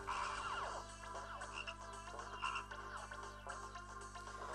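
Frogs croak in the Pekka Kana 2 video game, a series of repeated synthetic ribbiting calls over a steady low electronic hum, fairly quiet and with no voice.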